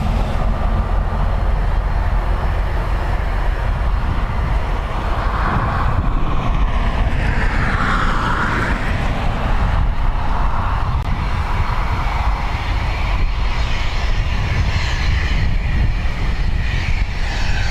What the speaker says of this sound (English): at the moment all departing aircraft are using this runway in front of me